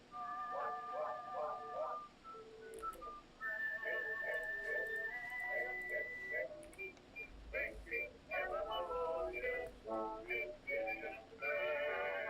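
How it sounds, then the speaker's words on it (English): Several people whistling at night along a roadside, bright tonal whistles repeating in short bursts and held notes over a steady background rumble, with dogs barking and yipping in between. "They're whistling."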